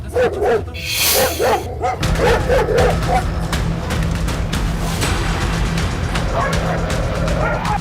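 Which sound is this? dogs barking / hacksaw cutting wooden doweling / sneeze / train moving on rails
dogs barking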